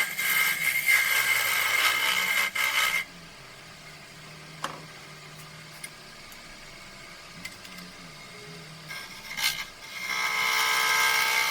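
A square carbide cutter scrapes spinning wood on a lathe, turning a measuring spoon cup; a loud broadband cutting hiss runs for about three seconds, gives way to a quieter low hum with faint ticks, then the loud cutting returns near the end.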